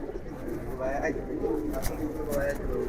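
Pigeons coo repeatedly at a busy pigeon market in Dakshin Khan, soft rolling calls layered over crowd murmur and people talking nearby.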